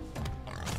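Pig grunting in Crash Bandicoot N. Sane Trilogy: a short burst of rough, snorting oinks, loud and close, with game noise underneath and no talk.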